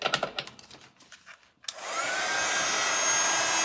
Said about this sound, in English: bring my heat tool back in